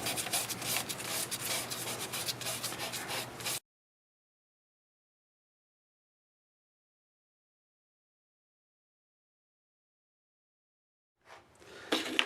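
Cloth rubs finish onto a wood turning in quick, scratchy strokes for a few seconds, then silence, and a brief rasping burst of rubbing returns at the end, quiet and close.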